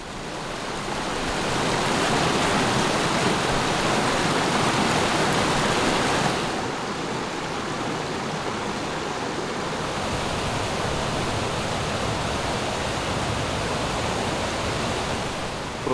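A clear, crystal-clean mountain river, the White River, rushes steadily through a wild gorge with a dense, loud, unbroken roar of flowing water that eases slightly partway through.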